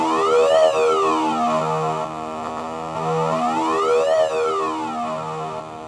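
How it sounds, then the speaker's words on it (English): A synthesizer tone built with CircuitPython on a Circuit Playground Express sweeps slowly up and down under LFO modulation, giving a moderately loud, siren-like, repeating wail with several layered harmonics and no talk. "The LFO really is beautiful on this."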